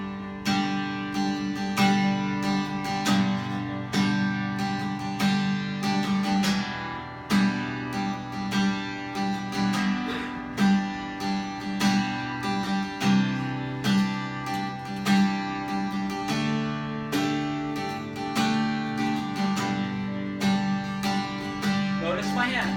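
Strummed acoustic guitar playing a steady, driving rhythm pattern with constant, even strokes and accented beats, full and continuous for over twenty seconds, no talking.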